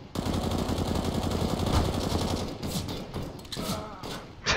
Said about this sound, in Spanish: Ustedes están viendo que yo lo estoy disparando y no se muere.